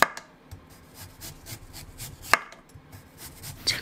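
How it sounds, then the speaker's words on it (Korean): A knife slices radish thinly into julienne strips on a cutting board, making soft, quick, irregular taps with a few sharper knocks, close and quiet. "무는 칼로 얇게 채 썰어줄 거예요."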